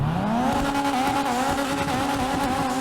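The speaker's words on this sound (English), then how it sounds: "This car sounds absolutely amazing. I feel like the turbo is super loud in this car." Dinka Jester Classic with a loud turbo in GTA Online, engine holding a steady rising drone with strong harmonics, close and loud, with tyre squeal texture throughout and no talking.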